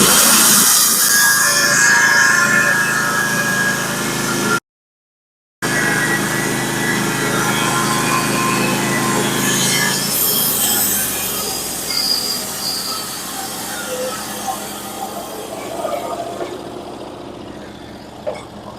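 A Norwood HD36v2 sawmill cutting a flitch off a Douglas fir log, a loud, steady high-pitched whine of the blade through the wood that continues for many seconds, with rougher, fluctuating noise near the end.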